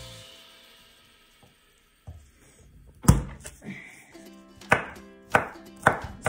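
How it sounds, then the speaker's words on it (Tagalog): Garlic is pounded in a kitchen while cooking artichokes: after a quiet start with a few light knocks come four or five loud, sharp thuds at an irregular pace, close up with no talk. "Dikdikin ko yung bawang."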